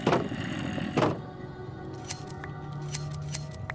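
Shearing wool from a sheep in the game Minecraft, a crisp snipping of shears near the start followed by a few softer clicks and pops, fairly quiet and with no talking.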